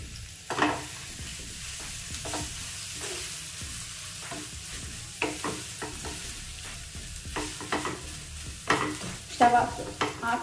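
Coconut chutney mixture, freshly grated coconut added, is stirred in a pan with the stove off, giving repeated close scraping and clinking strokes over a faint sizzle, no voice.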